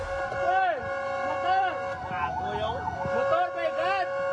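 A fire truck's wailing siren sounds on a street in Bacolod City, rising and falling in repeated sweeps, with the horn mixed in over traffic noise. A voice can be heard partway through.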